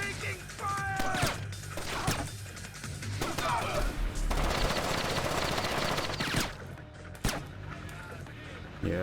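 Gunfire erupts in the stealth shooter Splinter Cell: dense, loud bursts of shots mixed with crashes and mechanical clatter that run almost continuously, with brief voices breaking through.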